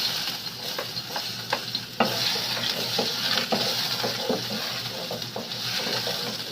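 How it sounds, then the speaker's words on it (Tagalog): Mussels sauté in hot oil with a steady, bright sizzle. Repeated stirring clicks and scrapes sound throughout, close and fairly loud, with no voices. "So yun, mag-start na tayo maggisa ng ating tahong."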